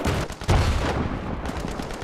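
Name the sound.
gunfire in the video game Battlefield 3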